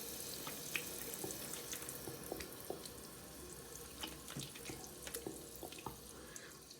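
Water runs steadily from a bathroom sink tap while someone wets their face, a soft continuous splashing with small irregular drips and spatters, fairly quiet and close, with no talking.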